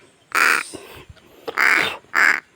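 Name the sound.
crow calling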